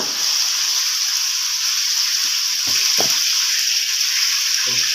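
Meat dropped into a hot pan in a home kitchen gives a steady, bright frying hiss throughout, with a few dull knocks from the utensil or pan partway through and near the end. No voices are heard.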